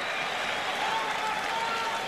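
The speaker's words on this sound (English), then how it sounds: "And a great salute by this terrific crowd" Crowd at the 2010 US Open final applauding Nadal's championship win: dense, steady clapping and cheering from a large stadium audience, continuous and even throughout.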